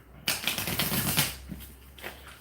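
Investigator card deck being shuffled on a gaming table, a quick burst of riffling card flutters lasting about a second, close and crisp, with a softer shuffle near the end.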